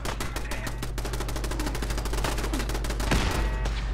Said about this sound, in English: Wait, was it shooting at me? It's shooting at me!